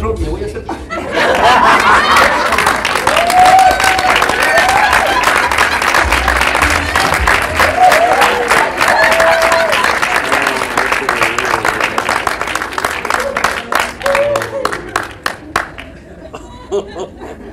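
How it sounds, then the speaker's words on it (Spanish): Audience at a church pastor's day celebration claps for a drama group, loud sustained applause mixed with chuckles and crowd voices, fading out near the end. "Un aplauso a los de drama."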